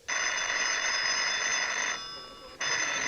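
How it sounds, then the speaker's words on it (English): A telephone bell rings loudly and steadily, with a short quieter break before ringing resumes, heard alone without talk. "phone's ringing, Sam."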